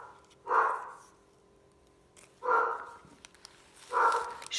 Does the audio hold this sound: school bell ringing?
no